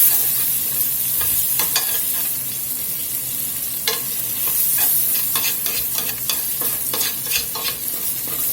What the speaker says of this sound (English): we're scraping that browned flour bits off the bottom here